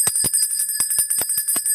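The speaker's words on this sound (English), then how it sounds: "We're going to ring the bell on that." A bell rings in a quick series of about eight sharp, bright strikes, each leaving a sustained high ringing tone, loud and close, with no talking.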